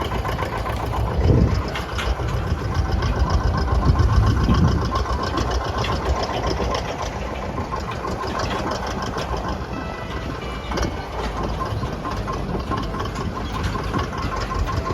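A steady engine rumble runs throughout, loud and close, with a slightly heavier surge early on.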